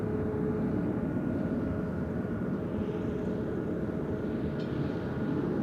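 A 22-year-old KLM Boeing 777-200 airliner begins its takeoff roll at Amsterdam Schiphol Airport, a steady broad low engine rumble that holds throughout at a distance, with no talk.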